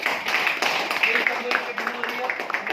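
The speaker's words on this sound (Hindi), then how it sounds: "इनके लिए जोरदार तालियां" Applause breaks out for a speaker at a company weekly plan and training programme in Nagpur, a room of people clapping in a brisk, uneven patter heard fairly close, with voices mixed in.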